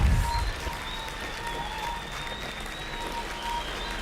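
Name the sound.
clapping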